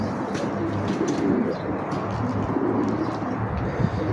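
Racing pigeons in a home loft coo in low, repeated throaty rolls close by, layered over a steady background murmur of birds with occasional faint chirps.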